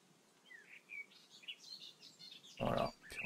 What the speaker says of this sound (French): Entendre le bruit des oiseaux.